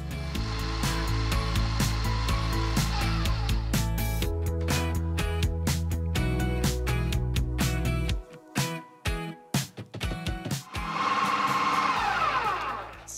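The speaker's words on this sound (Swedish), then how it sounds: "Då kommer jag mixa så att det blir en slät smet" A blender whirs steadily as it mixes gluten-free buckwheat pancake batter with salt, a loud continuous motor hum that pauses and stutters midway before running again.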